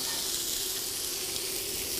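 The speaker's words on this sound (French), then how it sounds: "Donc on a mis nos médaillons d'agneau dans la casserole." Lamb medallions sizzle with butter in a cooking pan, a steady, dense hiss that holds evenly throughout at close range.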